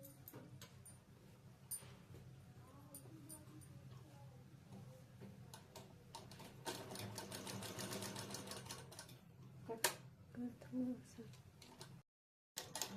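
A sewing machine stitches around the neckline of round-cut cloth, its rapid needle ticking running in uneven bursts close by, with a voice talking at times underneath.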